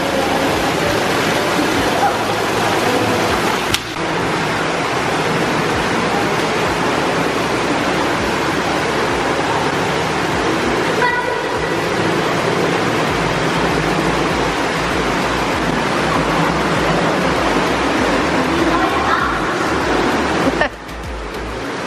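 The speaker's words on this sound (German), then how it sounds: "Der Wasserfall ist an, deswegen ist das ein bisschen laut gerade hier drin." An indoor hotel pool waterfall at a Baltic seaside beach hotel pours steadily, a loud, continuous rushing wash that fills the room for the whole stretch.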